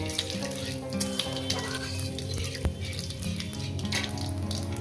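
Dry red chilli and cumin sizzle and crackle in hot oil, a continuous close frying hiss with scattered pops and a sharp clink midway, no voices.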